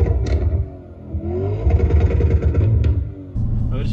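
An Audi RS5 B8 engine revs and rumbles through a loud Akrapovic exhaust, rising and falling with clattering bursts and no talking.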